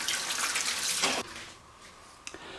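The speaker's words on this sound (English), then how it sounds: "Let me just rinse my hands." Tap water runs steadily as hands are rinsed in a kitchen sink during meal prep, a continuous hiss that cuts off abruptly partway through, followed by a few faint drips and clinks.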